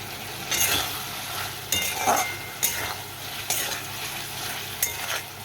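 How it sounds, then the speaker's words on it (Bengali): Spices and vegetables, including eggplant and potato, are sautéed in a pan for a katla fish curry. A steady frying sizzle runs under five or six distinct spatula scrapes, all heard close with no voices. "সবগুলো একসঙ্গে আমি ভালো করে কষিয়ে নেবো"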